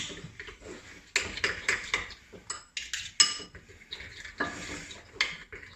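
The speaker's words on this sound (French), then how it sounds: "Bien mélanger pour que tout le monde se mette d'accord." Pork ribs being stirred into ketchup sauce, with repeated clinks and taps of a utensil against a pot or dish in uneven bursts, fairly close and moderately loud, no talking.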